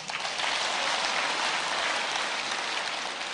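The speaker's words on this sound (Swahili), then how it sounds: "mumejaribu sana, mjipigie makofi" A church congregation claps for themselves, a thick continuous wash of many hands beating evenly throughout, loud and close with no talk over it.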